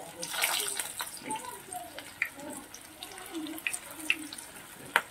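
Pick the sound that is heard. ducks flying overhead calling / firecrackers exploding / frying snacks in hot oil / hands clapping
frying snacks in hot oil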